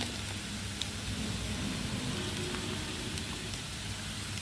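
A pan of carrot and egg stir-fry fries with a soft, even crackling sizzle, quiet and continuous with no talking.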